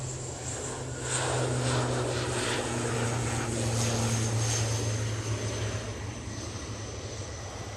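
An Aer Lingus ATR 72 turboprop departs Manchester Airport for Belfast, its propeller drone loud and steady, swelling in the middle and then easing slightly as it climbs away, with no talking.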